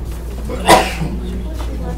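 A single sharp sneeze bursts out in a classroom, brief and fairly close, set against low room hum and quiet background murmur.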